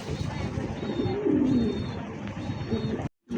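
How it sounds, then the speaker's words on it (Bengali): A pair of kokka pigeons cooing nearby, a throaty rising coo swelling mid-way over soft background chirps, cut off briefly at the end. "দর্শক দেখতে পাচ্ছেন একজোড়া ককা কবুতর, প্রচুর ডাকা ডাকে ভাই ককাগুলান।"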